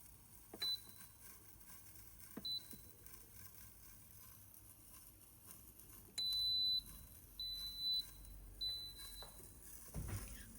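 Several short electronic beeps from a pressure cooker being set to its pressure level while cooking beans, spaced irregularly and fairly quiet over a low background hum, with a brief thud near the end.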